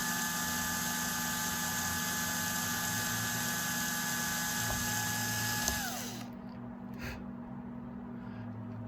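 Power drill boring holes through the cab roof of a Ford F350 to fit cab lights, a steady high whine running for about six seconds, then winding down and stopping, leaving a quieter background hum.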